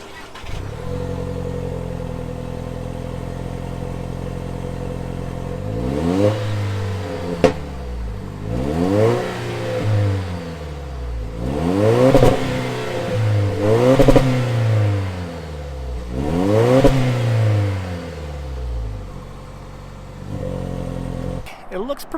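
A 2024 Toyota Tacoma TRD Off Road's 2.4-liter turbocharged four-cylinder engine idles, then revs hard several times in quick bursts, each rising and falling, before settling back to a steady idle.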